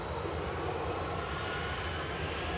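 An EasyJet jet airliner departs Manchester Airport for Palma de Mallorca, giving a steady, dense engine roar at a fair distance, unbroken and without voices.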